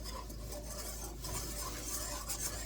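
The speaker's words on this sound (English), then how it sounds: "So I'll have to stir gently until I can go get a new one" A whisk stirring gently in a pot while cooking apple pie filling: soft, continuous scraping and swishing, close and quiet, with faint clinks and no talk.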